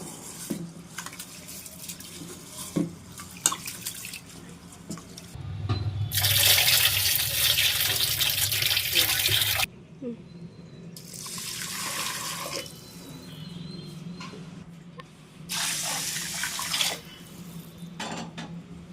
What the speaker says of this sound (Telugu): ఇవి మొత్తం 2 టైమ్స్ కడిగి వాటర్ పోసి స్టవ్ మీద పెట్టుకుందాము